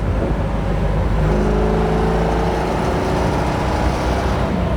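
A 1969 Pontiac GTO convertible on a test drive, its engine holding a steady, continuous drone with road rumble close by and no voices.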